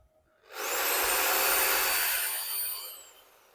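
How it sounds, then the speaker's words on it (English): A Sawzall reciprocating saw powered from a DATOUBOSS 5500W hybrid inverter whirs up sharply into a steady, loud, high-pitched motor drone for about two and a half seconds, then winds down, with no talking. "So now we're going to do the Sawzall."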